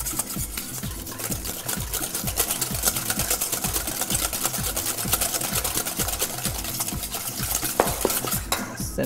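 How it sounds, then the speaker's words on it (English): An egg mixture with cinnamon and heavy cream is whisked briskly in a bowl, giving a steady, rapid rhythmic clatter that runs the whole time, close and loud, with no talking. "I'm going to whisk my egg mixture together with my cinnamon and my"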